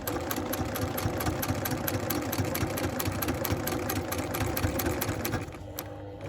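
Sewing machine stitching at steady speed during free-motion quilting along a ruler with tape, a rapid continuous needle rhythm running for about five seconds before stopping abruptly, leaving quieter residual hum.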